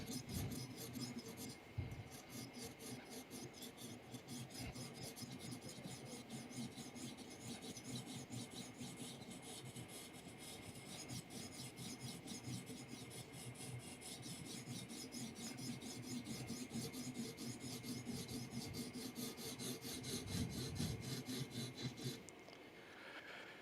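A knife blade is worked steadily against a sharpening stone to bring back a burr, making continuous close rasping strokes for over twenty seconds. Faint talk sits low beneath it.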